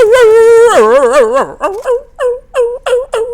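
Attack dogs from the K9 killstreak in Black Ops 2 on the Mirage map, a close, loud canine howl that bends into a whine, then a run of sharp, rhythmic yips and barks.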